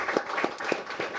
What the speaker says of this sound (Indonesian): Kasih tepuk tangan buat Pak Wamen.